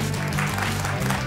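Studio audience at a Georgian TV comedy contest show applauding, a steady wash of clapping throughout over a low musical drone in the background.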